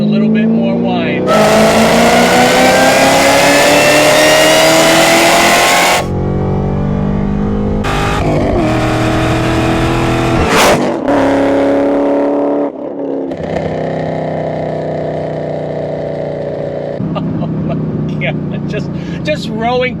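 A Camaro ZL1's 6.2 liter V8 revs hard and loud with a rising supercharger whine, cutting off for sharp downshift blips and pulling again through the gears, with someone talking between runs.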